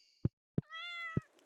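A cat gives a single clear, close meow between sharp soft knocks, in a quiet setting with no talking.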